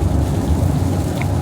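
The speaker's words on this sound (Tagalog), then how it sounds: "Oh, biglang lumakas yung ulan." Heavy rain roars in a dense, loud, steady wash during a downpour near Singapore's Changi Airport, with a deep low rumble underneath.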